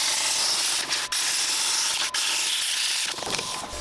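Power tool cutting through a metal truck drawer, a loud, continuous harsh hiss broken by a few brief dips where the blade catches or shifts.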